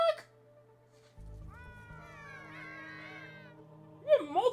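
A cat meows in a drawn-out, wavering cry heard fairly close, with a low hum beneath, followed by a brief louder vocal sound at the end.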